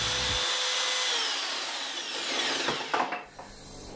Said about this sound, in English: for the jigsaw blade to get in, and I can now carve out this middle